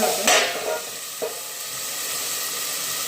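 A lid lifts off a covered pan of vegetables and they get stirred, with a clatter and a brief loud hiss of steam, a second knock, and then a soft, steady sizzle.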